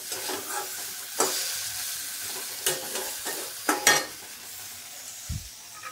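Egg and peas fry in a spiced masala of ginger, garlic, cumin, coriander, chili powder and turmeric, a fairly quiet sizzle marked by intermittent spatula scrapes and a few knocks.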